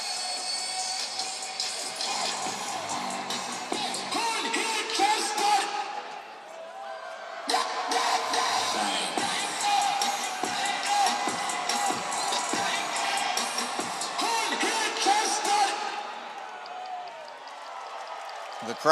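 Hockey arena crowd during a minor-league ECHL game, Jacksonville Icemen against the Greenville Swamp Rabbits, roaring and whooping in two sustained surges, with scattered shouts and bangs and an organ-like tone over the din.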